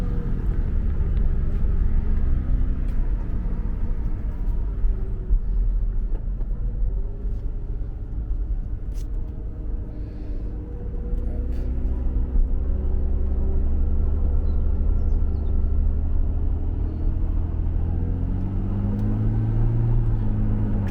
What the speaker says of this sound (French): On entend le plat de 6 qui gueule